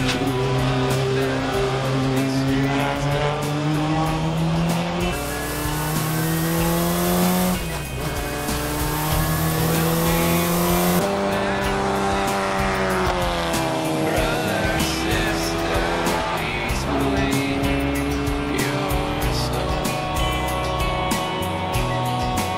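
A Nissan Silvia Turbo Group 5 race car, a roughly 1200-horsepower silhouette racer, screams around the Fuji circuit, its engine note rising and falling loudly and continuously through gear changes.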